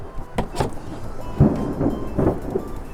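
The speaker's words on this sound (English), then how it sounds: "I'm not sure if you guys can hear that thunder" Thunder rumbling outdoors beside a pond during a stormy day, low booming rolls rising and fading a few times over a soft rain-like background hiss.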